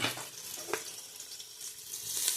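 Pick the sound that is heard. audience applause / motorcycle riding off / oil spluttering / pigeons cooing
oil spluttering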